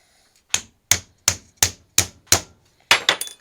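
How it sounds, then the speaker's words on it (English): Seven sharp hammer blows crack into an LED light bulb, spaced about every third of a second, each a loud, close, bright impact with a short decaying rattle, the last two strikes coming in quicker succession. "A hammer?"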